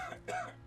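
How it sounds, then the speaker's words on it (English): A single person coughs at close range, with a couple of short harsh bursts. "I need to cough."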